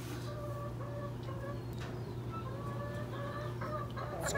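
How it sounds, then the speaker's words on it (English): Chickens in a pen give repeated soft clucks and short calls over a steady low hum, fairly faint and a little distant, with no talking. "It's crazy how smart the chickens can be."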